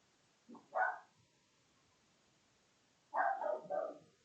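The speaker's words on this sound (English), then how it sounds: "Excuse the dogs." Dogs bark in a quiet indoor setting: a short pair of barks, then a pause of about two seconds, then a cluster of three barks, fairly close but not loud, with no talk over them.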